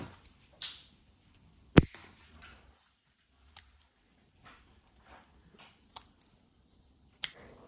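Scissors or pruning shears cut through woody orchid stem and flower stalks, a few sharp isolated snips spaced apart, close and quiet in an otherwise still setting.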